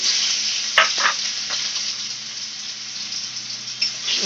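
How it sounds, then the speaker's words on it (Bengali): Chopped tomatoes sizzle loudly in hot oil with whole cumin in a kadai while a vegetarian ghugni is cooked, a steady broadband hiss with a few brief stirring clatters near the start and end, no voices. "এইবার টমেটো কুচি দিয়ে দিচ্ছে কড়াইতে"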